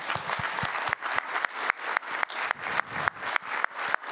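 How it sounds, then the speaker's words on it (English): A group at an annual membership meeting applauds in a steady, rhythmic beat, with evenly spaced bursts of clapping repeating close by and fairly loud, without talk. "I'd like you all to give yourselves a round of applause"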